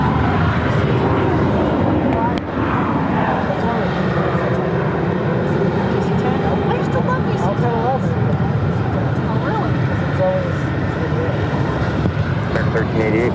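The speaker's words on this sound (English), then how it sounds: "Air Canada Rouge, flight 1730, heading to Montreal on an A319" An Air Canada Rouge Airbus A319 on its takeoff roll from runway 7 left at Phoenix, with a steady loud engine roar that holds throughout under a constant wash of noise.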